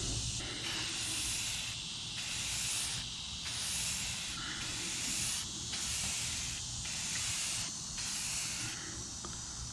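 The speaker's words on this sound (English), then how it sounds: "time to put that metallic Rust-Oleum" An aerosol can of metallic Rust-Oleum sprays an outboard engine cover in repeated close bursts of loud hiss with short gaps, no voices.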